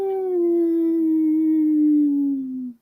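A single human voice imitates howling wind, a sustained tonal wail that slowly glides downward in pitch for nearly three seconds before cutting off, close and clear with no other sound.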